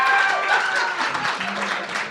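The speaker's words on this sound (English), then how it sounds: "that's not bad applause" A podcast's live audience claps and cheers, a dense patter of applause filling the room for a couple of seconds.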